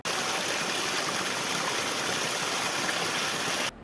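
Water gushing steadily from a burst drinking water pipe, flowing heavily toward houses, makes a loud, continuous broadband rush that cuts off abruptly just before the end.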